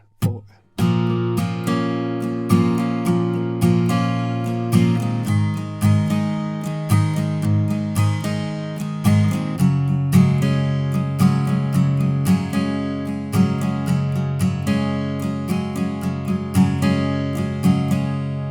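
Acoustic guitar strumming the pre-chorus chords of Mr. Brightside by The Killers in a steady rhythmic pattern, close and clear with repeated strokes and chord changes, played alone without talk.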